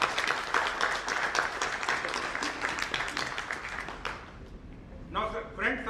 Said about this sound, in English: please join me in welcoming all the dignitaries by giving them a good round of applause